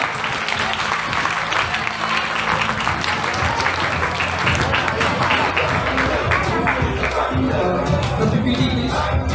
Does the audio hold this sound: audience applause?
yes